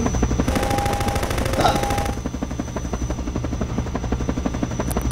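A helicopter in Garry's Mod whirs loudly and steadily with a rapid rotor chop, while bursts of gunfire-like rattling run through it and a faint tone whines briefly.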